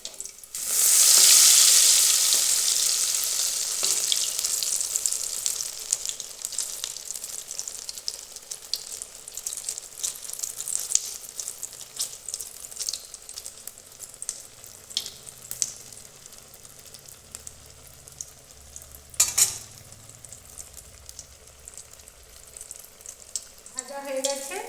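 Egg and tomato chops fry in hot oil, starting with a loud burst of sizzling that settles into a steadier crackle, with occasional clatters of a utensil against the pan and a brief louder splash near the end.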